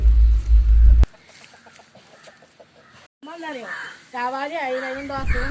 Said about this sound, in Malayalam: വീട്ടിലുള്ള നാടൻ കോഴിൻ്റെ കളക്ഷൻ്റെ വീഡിയോസാണ്